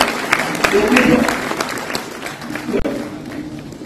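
Audience clapping welcomes a guest onto the stage at a bank self-employment festival, a busy scatter of claps with a voice talking over it, the applause easing slightly toward the end.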